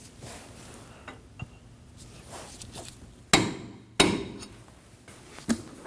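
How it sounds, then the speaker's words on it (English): Hammer peening the axle nut on a 2003-2006 Subaru Baja, two sharp, loud metallic strikes a little over half a second apart, with fainter taps around them. "We're going to peen the axle nut so that it won't spin backwards."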